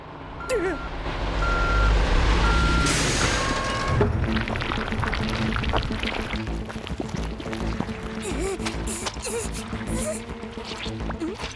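Cartoon truck reversing beeps sound amid a busy, loud animated scene with rumbling, pouring and impact effects, the beeps standing out as repeated tones over the noise.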